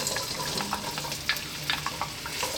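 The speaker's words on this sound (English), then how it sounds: "Got a pan here, olive oil in there. We're going to drop in our onions." Onions sizzle in olive oil in a pan on mild heat, a soft, continuous crackle and hiss with small pops scattered through it.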